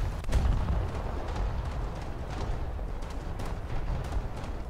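Booming cannon fire from a ship's broadside guns in War Thunder, a dense, continuous barrage of heavy low thuds and rumbling blasts with no talk over it.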